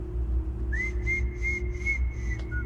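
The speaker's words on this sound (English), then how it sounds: "Whistle." Someone whistles a slow, wavering tune of several drawn-out notes in a Mickey Mouse horror setting, fairly clear over a low steady background hum.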